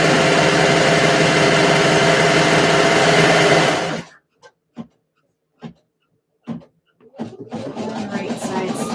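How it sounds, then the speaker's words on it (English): A serger sewing machine runs loud and steady close by, then stops abruptly, leaving a few quiet handling clicks and fabric sounds before a low hum starts again; no one talks. "I know that it's kind of loud with the serger right here."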